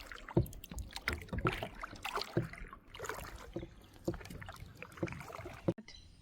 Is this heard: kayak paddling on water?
yes